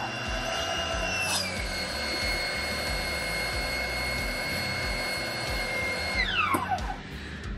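A Xenon HPW410 high-pressure jet cleaner motor runs with a loud, steady whine and hum, then drops in pitch as it winds down near the end.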